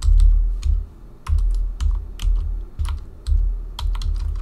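Keys clatter on a computer keyboard as a name is typed, close and crisp, in short bursts of taps with brief pauses between words.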